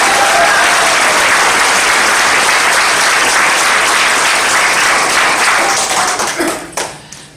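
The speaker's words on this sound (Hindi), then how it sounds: "सबसे पहले तो मैं प्रदीप्ता जी के लिए चाहूंगा एक बार अभी तक के दमदार तालियां।" A large crowd at a business event in Odisha breaks into loud, sustained applause that stays dense and steady before tapering off near the end.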